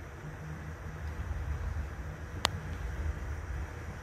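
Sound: MSI RTX 2080 Ti Ventus OC graphics card fans running during benchmark

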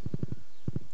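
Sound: horse hooves clip-clopping while riding, Stardew Valley video game

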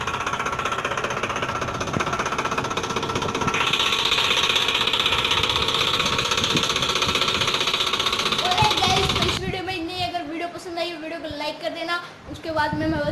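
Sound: tractor engine running in a field

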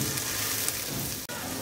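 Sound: garlic frying in oil

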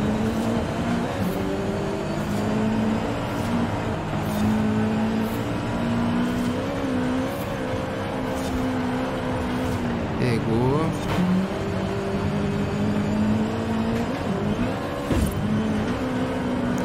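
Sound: Toyota GT86 rally car engine in Forza Horizon 5 video game

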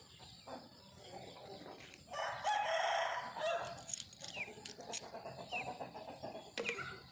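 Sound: rooster crowing among many chickens

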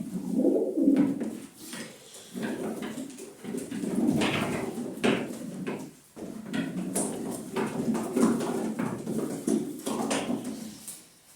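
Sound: pigeons cooing

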